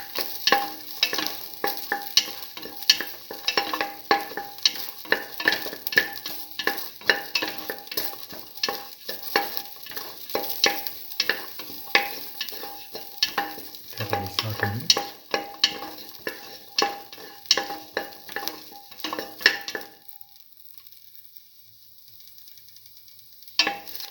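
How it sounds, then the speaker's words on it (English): Ginger, garlic and shallots sauté in a pan for a garlic mung bean tamarind stew, a steady crackling sizzle with frequent stirring scrapes, close and fairly loud, then suddenly quieter for the last few seconds. "Keep on sauteing."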